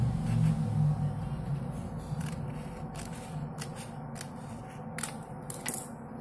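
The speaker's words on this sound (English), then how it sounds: "Now I am going to make a cut on the second line." Scissors snip through a paper plate in a string of short, crisp cuts at close range, with paper rustling between the strokes.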